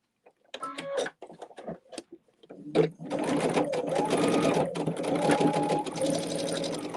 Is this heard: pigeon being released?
no